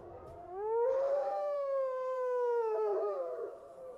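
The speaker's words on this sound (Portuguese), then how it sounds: "Então ele ergueu a cabeça e uivou para a noite antes de desaparecer entre as árvores." A single wolf howls at night, one long sustained, rising then slowly falling tone, fairly quiet and alone against a still background.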